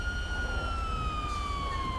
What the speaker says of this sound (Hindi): सायरन ऑफ करते हैं